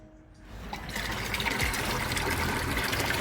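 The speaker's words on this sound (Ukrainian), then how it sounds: "Пішла водичка." A freshly repaired pump is switched on and water begins gushing out after a brief quiet moment, then pours in a loud, steady, close rush that continues without a break.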